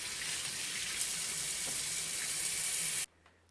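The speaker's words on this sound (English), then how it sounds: "Once I've rinsed these out completely, I'm going to lay them flat to dry" Tap water runs steadily while fabric is rinsed under it, a constant close hiss of flowing water that stops abruptly near the end.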